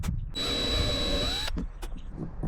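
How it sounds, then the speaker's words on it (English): A power drill bores through a truck camper roof into the wood framing beneath, its steady high motor whine running for about a second before it stops, followed by a few faint knocks and handling sounds. "I drilled through and I hit wood both times, thankfully"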